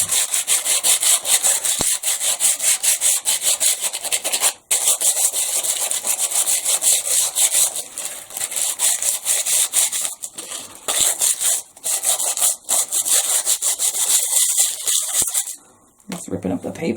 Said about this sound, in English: Dollar Tree sandpaper.